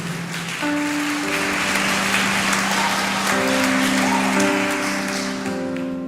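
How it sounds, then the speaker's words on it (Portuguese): Congregation at a Portuguese-language church sermon applauding Our Lady on her feast day: broad, sustained clapping fills the room for several seconds, with sustained organ or keyboard tones underneath. "Eu queria que você aplaudisse Nossa Senhora, porque hoje é dia dela."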